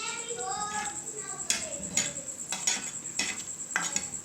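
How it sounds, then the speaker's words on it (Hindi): Chilies frying in oil for a tadka for kadhi pakora, a steady soft sizzle with several sharp scraping stir strokes at regular intervals; faint voice-like tones early on. "इसको थोड़ा सा इसमें भूनते हैं, मिर्चों को भी टाइम देंगे ताकि ये भून जाए"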